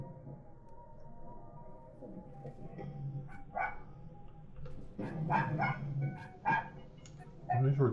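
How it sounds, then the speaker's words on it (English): A dog barks in a few short, sharp bursts over steady background noise during a gaming session, loudest toward the end of the stretch. "And these are a dog barking."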